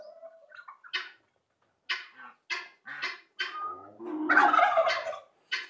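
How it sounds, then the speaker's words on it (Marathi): A turkey with its feathers fanned out gobbles in a fruit orchard garden, giving a string of short, separate gargling bursts and then a longer, louder rolling gobble, fairly close and alone. "अच्छा टर्की नावाचा पक्षी आहे."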